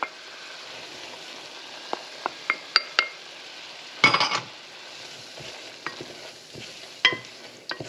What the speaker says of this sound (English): I just want to cook out the flour.